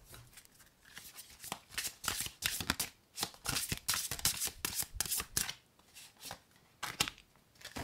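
Tarot cards are shuffled in quick, close, papery riffles and slides, a rapid run of soft flutters lasting several seconds and fairly quiet.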